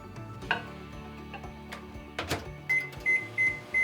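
A microwave oven heats a plated tofu and zucchini lasagna to melt the cheese, with scattered clicks and knocks followed by four short, clear beeps at the end.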